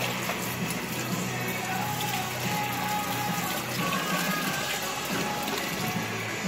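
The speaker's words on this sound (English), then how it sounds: "rinse this thing off here." Running water from a tap pours steadily over a shake container being rinsed in a kitchen, a constant close splashing hiss throughout.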